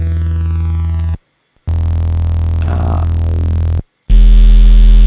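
A loud, steady sine-wave tone buzzes with harsh hum and static, degraded by noise, cutting off briefly twice before returning even noisier and rougher.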